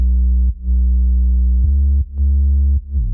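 Dubstep sub bass processed with fast distortion and parametric EQ, played loud and alone as sustained low notes with bright harmonics, cutting off and restarting several times in a short phrase.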